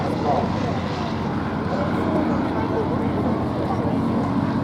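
Bristol Fighter biplane flying at the Duxford air show, a steady droning propeller engine filling the air with a constant roar, while a commentator speaks over it.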